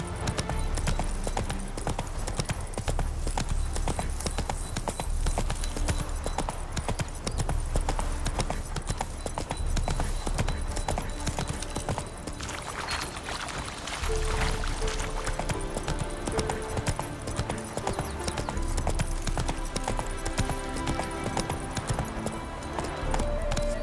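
Roach, a horse in the video game The Witcher 3, gallops steadily with dense, rapid hoofbeats clip-clopping throughout, layered over continuous ambient game sound.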